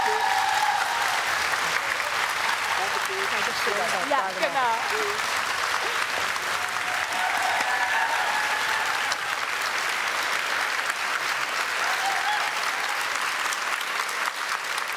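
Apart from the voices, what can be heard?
audience applause at live show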